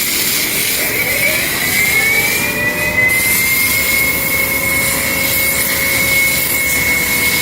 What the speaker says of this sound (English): We're going to show its rinsing power with the blue gun right here.